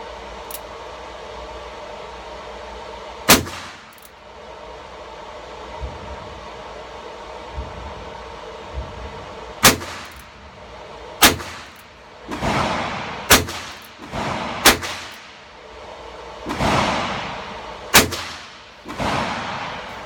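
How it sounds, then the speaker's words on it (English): Several sharp, loud gunshots from a Rough Rider revolver crack out at uneven intervals, first sparse and then in a quicker cluster near the end, over quiet outdoor background. "Shooting a little to the left, so I had to overcompensate at one time."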